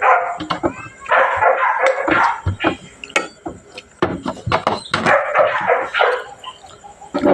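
A dog barks repeatedly in close, sharp bursts with short gaps between them, mixed with some yips, loud and nearby, with occasional background noise.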